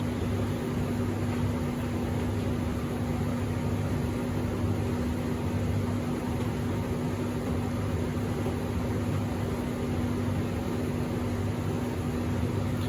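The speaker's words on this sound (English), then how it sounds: "this is all the machine is going to do, tumble this way for 80 more minutes" A Hotpoint 93582 Super De Luxe tumble dryer runs with a steady, loud whirring drone and constant hum, its drum tumbling continuously with no breaks, while it sits rocking on an unstable machine.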